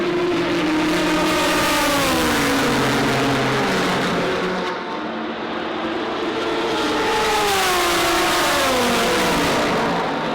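Race cars at the 24 Hours of Le Mans blare with loud engines, the pitch sweeping up and down as cars roar past in a continuous, overwhelming wash of engine noise.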